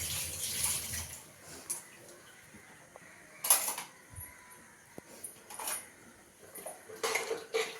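Hand stirring of a curry pot after two teaspoons of chili powder go in, with a few clinks and scrapes of metal against the pot and splashy watery movement, faint and intermittent, with no voices.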